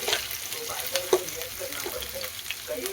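Finely chopped onions sizzle steadily in hot oil in a pan while cooking a guava curry, a continuous close frying hiss with occasional stirring scrapes.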